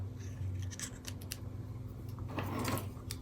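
Scissors snipping loose strings off a paper embellishment during a Stampin' Up! card craft session, several quick close crisp cuts with small metallic clicks, quiet and alone.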